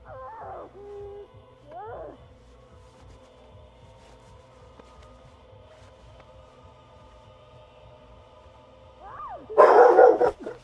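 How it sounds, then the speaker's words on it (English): A dog in the video game Vampyr barks and yips in a few short bursts, one near the start, another around two seconds, then more near the end, over a low hum of game ambience. "And there goes my dog."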